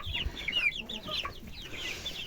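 Young chicks let out into an outdoor pen make soft, repeated clucks and chirps, close and fairly quiet, with no talking.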